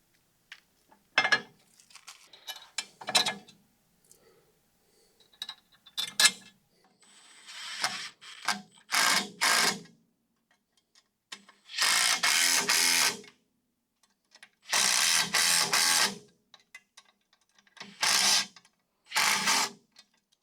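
A ratchet wrench bolting an upper ball joint onto a car's suspension, heard as bursts of rapid clicking and cranking separated by pauses and small handling clinks, close and fairly loud.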